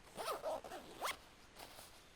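A pocket zipper on a Condor Elite Titan Assault Pack tactical backpack is pulled in a few quick, close rasping strokes, then the sound trails off into quiet.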